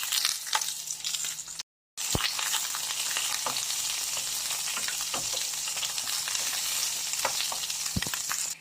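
Ginger, onion and garlic sizzle in hot oil in a pan, a steady close crackling fry with scattered pops and a brief gap in the sound, with no talking.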